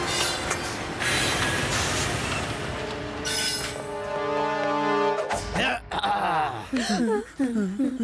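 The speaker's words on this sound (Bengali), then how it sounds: "আর কত লেট করবে এই ট্রেনটা?" A train pulling into a station, loud and near, with rumbling wheels and squealing brakes, followed by voices speaking over the fading rail noise.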